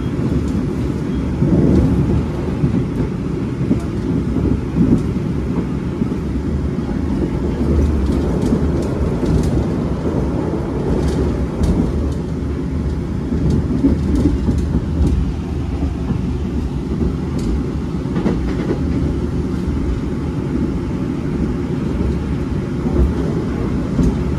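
A Taksaka passenger train runs on rails on the Jakarta to Yogyakarta line, a steady loud rumble with low-frequency roar and rail clatter continuing throughout, with no voices.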